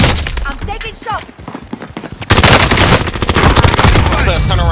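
Video game gunfire in rapid automatic bursts, loud and close, with a heavy sustained volley in the second half, mixed with brief shouted voices and clattering impacts.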